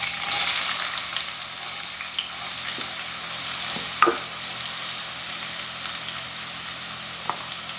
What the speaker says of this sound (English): Now we'll add the onion and the tomato.